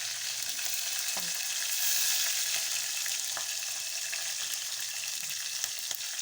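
Garlic sizzles in hot oil with curry leaves and green chillies for a sambar, giving a steady crackling fry with occasional soft stirring clicks close by.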